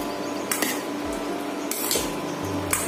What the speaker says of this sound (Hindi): और इसी के साथ में डाल दूंगी पनीर, इसको मिक्स कर देना है।